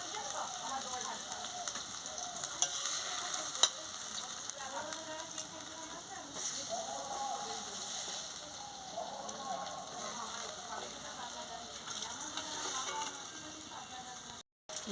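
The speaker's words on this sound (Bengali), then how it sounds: "পাতা দিয়ে একে ভালো করে লাল লাল করে ভেজে নিচ্ছি।" Neem leaves and eggplant frying in a pan give a constant, fairly soft sizzle and crackle, like light rain on a surface, with brief scattered pops. The sound runs steadily and cuts out near the end.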